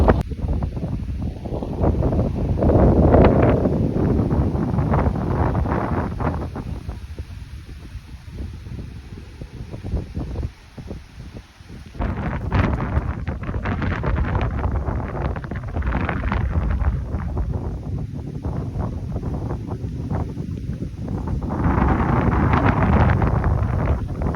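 Strong wind gusts buffet the microphone at the Mayon viewpoint in Albay, a loud, rumbling roar that surges and dips, nearly dropping out briefly before blasting back in waves.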